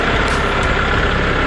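A Kubota L6060 compact tractor sits idling with a steady, loud diesel drone that is close and constant, with no voices over it.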